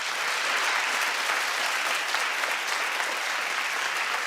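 Sustained audience applause at a talk show taping, a dense, even wash of many hands clapping at steady loudness throughout, with no voices breaking through.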